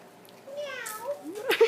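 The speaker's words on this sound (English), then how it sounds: "It's my pussy cat." Pet cat meowing indoors, a couple of close, drawn-out rising meows lasting about a second, followed by a brief louder vocal burst at the end.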